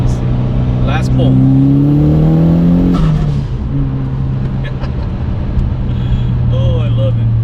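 A Mitsubishi Evo X accelerates hard in a last pull, its engine revving loudly up through the gears with a brief drop between shifts, the roar continuous and close throughout.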